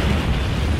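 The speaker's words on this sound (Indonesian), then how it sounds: "terjadi ledakan" A loud, rumbling explosion roars with dense low-frequency booming throughout the short burst.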